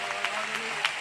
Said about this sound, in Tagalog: Palakpakan po natin ang isang malakas na palakpak ang ating mahal na Panginoon.